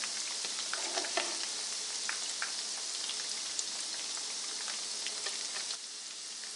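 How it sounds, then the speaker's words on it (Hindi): Marinated beef frying in oil over low heat, a steady soft crackle and spit of bubbling oil with scattered pops, fairly quiet and even throughout, no voices. "इनको फ्राई कर लिया लो हीट पे 7 मिनट"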